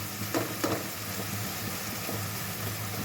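Tomatoes fry in hot oil for a tomato gongura curry, giving a steady, even sizzle with a couple of soft stirring scrapes near the start.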